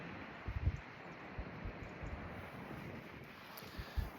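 Strong wind gusts roaring and buffeting a microphone outdoors amid wind-snapped forest trees, a steady low rumble with irregular thumps, fairly faint and with no voices.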